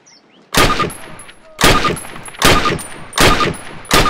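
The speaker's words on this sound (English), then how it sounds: "Approach the fence and fire 6 rounds at your target." Rifle shots in Call of Duty training ring out at a practice target. Five sharp, loud reports come about a second apart, each with a short metallic ring.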